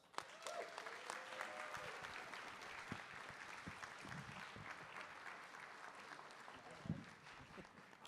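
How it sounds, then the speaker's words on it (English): Audience applause at a DeMolay International luncheon, a roomful of hands clapping steadily at moderate distance, continuous for several seconds with a few sharper claps standing out. "Give him a round of applause."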